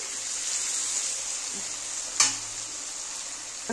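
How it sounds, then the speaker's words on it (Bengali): Paneer pieces frying in hot oil in a pan, a continuous bright close sizzle with a sharp spatter or stirring clatter partway through. "দেখো তেলটা গরম হয়ে গেছে, এবার আমি পনিরগুলো সব ভেজে নেব"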